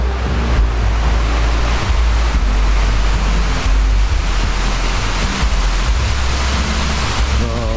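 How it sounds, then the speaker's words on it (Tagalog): Water from a small waterfall, Dinadayong Falls in Libmanan, Camarines Sur, rushes in a constant loud wash, with wind buffeting the microphone throughout. "Ito, maliit na falls, oh."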